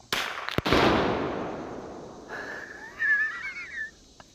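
A single sharp crack of a .22 LR rifle fired at a reactive target outdoors, quickly followed by a short wheezing, whistling tone.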